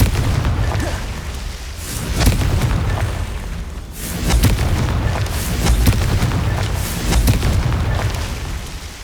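Confringo fire-blast spells from Hogwarts Legacy go off in repeated loud booming bursts, rumbling explosions rolling one after another over several seconds with no pause.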